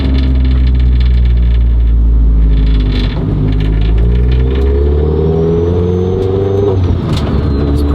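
A tuned Renault Mégane 3 RS on a test run drones loudly and close, its engine note climbing and shifting through the gears, with no talking.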